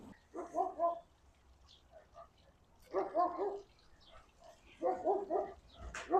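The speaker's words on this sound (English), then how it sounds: "the dog starts barking" A dog barks in three separate bursts of several barks each, fairly close, with quiet gaps and a faint wind-like rumble between them.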